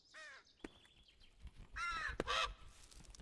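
A crow in the climbing video game Peaks of Yore gives several harsh, raspy caws in quick succession, clear and fairly close over a quiet background.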